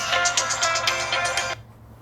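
A phone ringtone plays loud and close, a steady electronic tune with repeating pulses that cuts off abruptly after about a second and a half, leaving quiet room hum.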